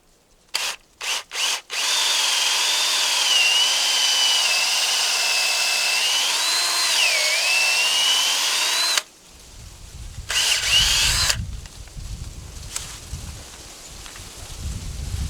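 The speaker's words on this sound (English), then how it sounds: "Drill bit 5/16. Always mark it so you know the right depth, and come in at a little bit of an angle." Cordless power drill with a 5/16 bit boring a tap hole into a maple tree, a few short trigger blips then a steady whining drone for about seven seconds with slight pitch dips as it bites into the wood, followed by rustling and handling noises.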